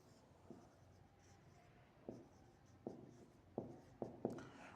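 Pen or chalk writing out a math problem on an equilateral triangle's area, faint scratchy strokes with a few sharper taps and scrapes clustered toward the end, quiet and close with no talking.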